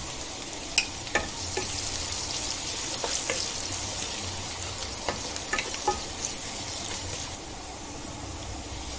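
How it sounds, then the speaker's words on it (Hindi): Onions with salt frying in hot oil give a steady sizzle with occasional sharp crackles and stirring clicks, close and moderately quiet. "तेल गरम हो गया, अभी ये प्याज डालेंगे।"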